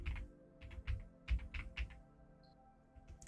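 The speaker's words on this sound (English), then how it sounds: "Well, I'm typing on the wrong computer." Fingers tap out a quick, uneven run of keystrokes on a computer keyboard, close and fairly quiet, with small pauses between bursts and no voices.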